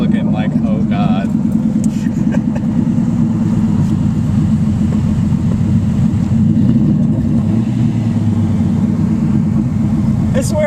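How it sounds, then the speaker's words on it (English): Car engine with no exhaust, revving loud and close, with a steady heavy low rumble throughout and people talking over it. "I swear I just heard someone else rev."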